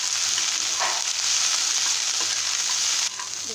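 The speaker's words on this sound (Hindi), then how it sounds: "एबे बंधा कोबी फ्राई कर नेछि" Cabbage and peas frying in a pan for an Odia bandha kobi curry, a steady close sizzle with faint stirring scrapes, no voices.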